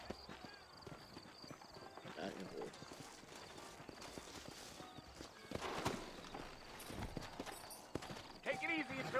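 Horses clip-clopping along in Red Dead Redemption, set in New Austin, with steady hoofbeats running under game dialogue and ambient sound throughout.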